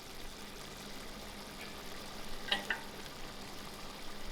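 Onions cook into masala chicken in a pot over an outdoor fire, making a quiet, steady sizzle with a couple of sharp clinks midway.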